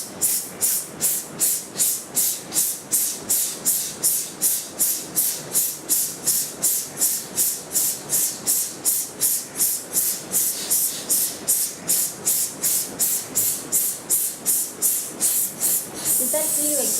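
Breathing exercise with short breath hisses: a long run of rapid, evenly spaced sharp hiss pulses, about two or three per second, close and steady for over fifteen seconds, ending in a softer exhale.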